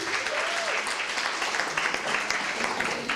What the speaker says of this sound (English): Give a clap for Irene.